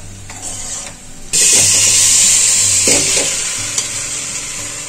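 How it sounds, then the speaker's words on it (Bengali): Cooked vegetables are tipped into a cooking pot and hit the hot base with a sudden loud sizzle that starts abruptly after a quieter moment, then hisses on steadily with a few scraping clatters, no talking. "এই হাঁড়ির মধ্যে সবজিগুলো সব ঢেলে দিলাম।"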